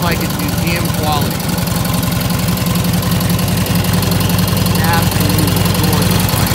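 A restored 1947 Indian Chief motorcycle idles close by with a loud, steady, even thump, and voices talk briefly over it.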